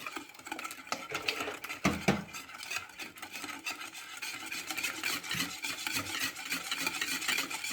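A spoon or whisk stirs a batter of milk and oil in a bowl, making soft repeated scraping and sloshing strokes, fairly quiet and steady.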